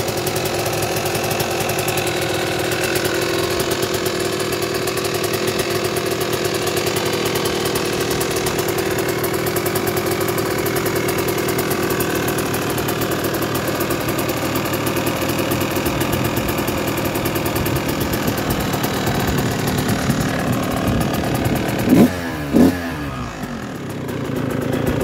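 A 2008 Kawasaki KX125 two-stroke motorcycle engine idles steadily and loudly up close with a buzzy, rattling tone, ending with a couple of sharp blips near the end.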